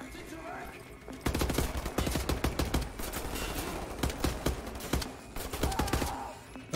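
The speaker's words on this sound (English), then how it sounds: "Please stop shooting." Rapid automatic gunfire rattles in dense, continuous bursts during a firefight in the video game Wolfenstein: The New Order, loud and sustained for several seconds after a quieter opening.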